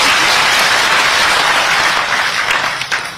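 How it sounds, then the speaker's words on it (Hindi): An audience at a farmers' crop insurance program event in Ujjain applauding to welcome the region's farmers, dense continuous clapping from a large crowd that tapers slightly at the end. "आप ही तालियां बजाए तो उनका स्वागत कीजिए, अभिनंदन कीजिए"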